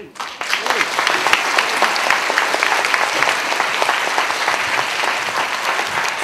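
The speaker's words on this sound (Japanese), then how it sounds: "拍手でお迎えいただきたいと思います" An audience at a Japanese national competition final applauds steadily as competitors are introduced, a dense continuous clapping that stays loud throughout.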